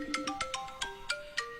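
A mobile phone ringtone plays a bright, chiming melody of repeated plucked tones at a quick, regular rhythm, near and clear with no voices over it.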